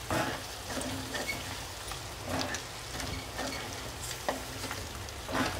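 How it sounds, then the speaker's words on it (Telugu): Pepper chilli chicken stir-frying in a pan, a steady loud sizzle with periodic scraping stirs from a utensil, close by and without speech. "అప్పుడు ముక్క బాగా వేగుతుంది."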